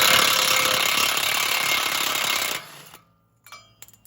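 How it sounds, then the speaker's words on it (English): Loud impact tool hammering a 36mm axle nut socket on a 2022 RAM 1500, a rapid rattling burst for about two and a half seconds, close up, then stopping with a few faint clanks. "Grab your 36mm axle nut socket, get that axle off."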